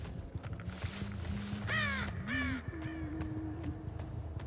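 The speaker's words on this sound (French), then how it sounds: "Petit corbeau, corbeau, corbeau." Crows cawing in a hide-and-seek video game, several harsh caws close together in the middle over a steady backdrop of game ambience and tones.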